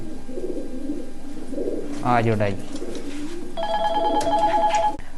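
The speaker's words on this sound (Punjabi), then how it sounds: "ਆ ਕਬੂਤਰ ਦੇਖੋ ਜੀ" Pigeons coo in soft low bursts close by, with a short ringing electronic tone near the end, while someone talks over them.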